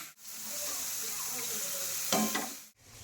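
A loud, steady sizzle of flat beans frying in a pan, with a brief scrape of stirring near the end.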